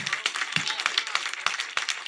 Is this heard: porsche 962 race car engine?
no